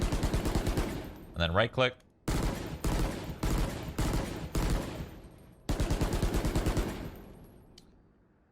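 Budget rifle firing in Valorant, several sustained bursts of rapid automatic shots separated by short pauses, loud and close, with a brief spoken remark between bursts.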